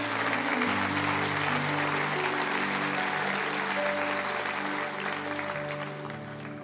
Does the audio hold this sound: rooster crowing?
no